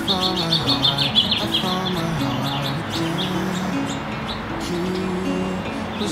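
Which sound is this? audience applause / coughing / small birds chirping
small birds chirping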